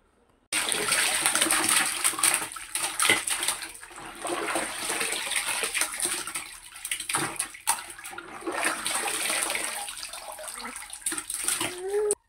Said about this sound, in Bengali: বারবার কয়েকবার ধুয়ে পরিষ্কার করে নিতে হয়